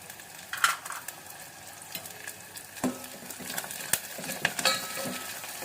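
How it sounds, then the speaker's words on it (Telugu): Curry leaves dropped into hot tempering oil in a pan, a soft steady sizzle with occasional spoon scrapes and clinks against the metal, heard quietly and alone. "ఇప్పుడు కరివేపాకు కూడా వేద్దాం."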